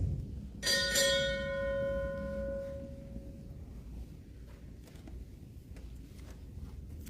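A ship's bell is struck twice in quick succession at a US Navy retirement ceremony, ringing out clearly and fading over several seconds into quiet.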